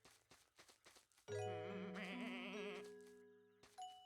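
A sheep in a snowy shepherding video game lets out a single long, wavering bleat, loud and close after a few soft taps, then fading out.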